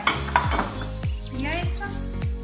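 Chopped okroshka ingredients (egg, potato, radish, cucumber, sausage) are tipped and scraped into a large pot, making repeated clattering knocks and soft tumbling thuds at a steady pace, close and moderately loud.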